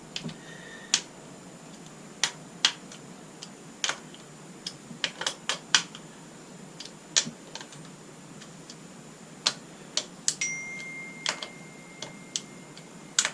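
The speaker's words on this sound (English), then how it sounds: "Just go around these with your approved torque wrench. Click. Click." A torque wrench clicks repeatedly on the casing bolts of a Kawasaki ZX10-B motorcycle, giving sharp, close ticks at an irregular pace of about one to three per second, with a steady faint hiss underneath.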